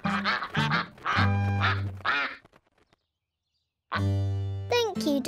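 Cartoon ducks quack in a loud, nasal chorus of repeated calls in two bursts separated by a short silence, close and clear, with no talking.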